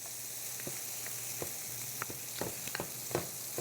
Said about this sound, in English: we really want to get the liquid coming out of the bacon. We want to render it down.